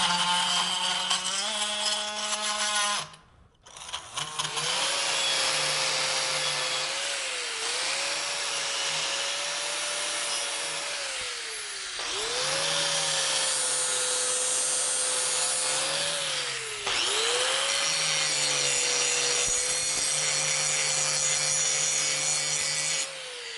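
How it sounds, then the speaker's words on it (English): Oscillating multi-tool grinding welding dross off metal, a loud continuous buzzing drone that runs steadily with brief pauses and pitch dips as the blade is lifted and reapplied. "Let's start with the oscillator"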